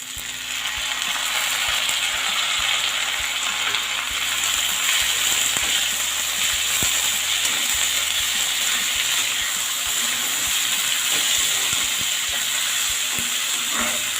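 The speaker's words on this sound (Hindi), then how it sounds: "एक से 2 मिनट तक इसको भूनना है, जिससे कि जो टमाटर है हल्का सा सॉफ्ट हो जाए।" Tomatoes frying in a pan with green chili and ginger, a steady loud sizzle and crackle that runs on throughout with small scattered pops.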